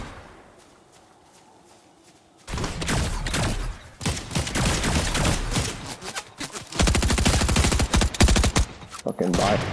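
Sustained pulse rifle fire in Fortnite, starting after a quiet stretch and continuing in dense rapid bursts, with players talking over the shooting.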